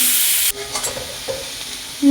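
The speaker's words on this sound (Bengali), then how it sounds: "পেঁয়াজটা ভাজা ভাজা হয়ে যাবে দেখি গোল্ডেন কালারে করবো ভাজা ভাজা" Onions frying in a pan for chicken curry are stirred briskly, with a short burst of scraping followed by a steady close sizzle.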